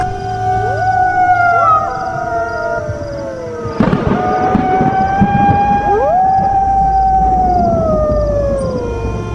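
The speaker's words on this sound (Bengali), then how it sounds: "আর কানে ভেসে আসছে শিয়ালের ডাক" Jackals howling at night in rural village surroundings, several long wavering calls rising and falling and overlapping, with a sharp burst near the middle and the chorus carrying on, fairly loud and with no voices.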